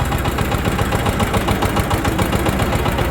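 An economy-version Shifeng tractor engine running as the machine starts to drive: a loud, close, steady diesel chug with rapid knocking pulses and vibration throughout, no voices.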